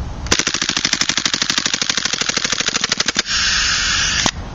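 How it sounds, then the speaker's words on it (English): An HFC USP gas airsoft pistol fires on full auto outdoors in cold weather, a loud rapid burst of about three seconds of sharp cracks, then a hiss of venting gas and one last pop. "So this gun is a very good gun, especially if you're firing it on full auto."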